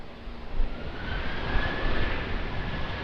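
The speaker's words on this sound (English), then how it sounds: "Qantas showing them how it's done in the Airbus A330." Qantas Airbus A330 rolling on the runway, a broad roaring engine rumble heard from a distance, steady and unbroken with no voices.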